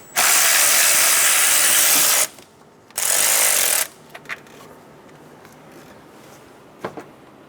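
A ratchet on a 10mm socket loosens screws from the air intake of a 2005-2015 Toyota Tacoma 2.7L L4. Two loud, rapid clicking runs are followed by a few faint taps and clinks of parts being handled.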